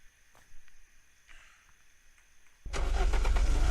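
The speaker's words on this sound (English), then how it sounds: "Let's back up the car." A car engine in the video game Unturned cranks and catches after a quiet stretch of small clicks, then settles into a loud, steady mid-pitched run.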